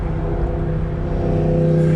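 A jeep driving in freeway traffic on Interstate 15 through the Cajon Pass, a steady loud engine drone and road roar heard from inside, with no talking.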